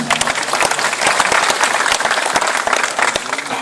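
Audience applause at a religious gathering, a dense burst of many hands clapping together, loud and close, lasting a few seconds without a pause.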